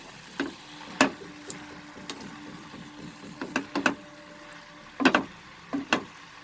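Sarson saag chicken is roughly mixed in a pan, giving irregular spatula scrapes and clacks in short clustered bursts over a faint background; no one speaks.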